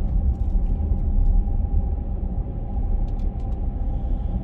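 A Mercedes ML350 with a 3-litre V6 diesel engine drones along the road, a steady low rumble of engine and tyre noise heard from inside the cabin, with no voices.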